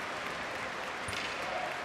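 An ice hockey crowd in an arena cheers and applauds, a continuous far-off roar at a steady level.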